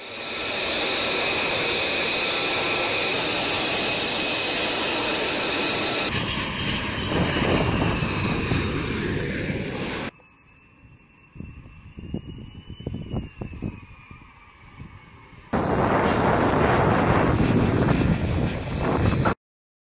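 An Israeli air force fighter jet roars loudly and steadily, fades to a quieter stretch with a faint whine and scattered rumbles, then surges back to a full engine roar.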